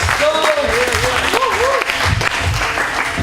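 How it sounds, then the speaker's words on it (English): Crowd at a Kauaʻi poetry slam claps steadily, a dense, close wash of applause with a voice talking and calling out over it partway through. "Give him a round of applause"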